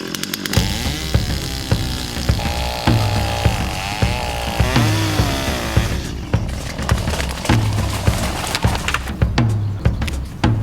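Chainsaw cutting through a fallen red cedar trunk on a trail-building site, the saw engine revving loud and close in steady surges as the chain bites into the wood, with no talking.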